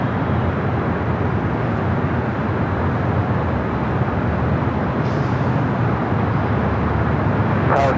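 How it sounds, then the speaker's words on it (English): A heavy Boeing 777-300ER arriving from Beijing on approach to land at LAX: a loud, steady broadband jet roar that holds constant throughout, with no voices. "777 at 300ER coming in from Beijing"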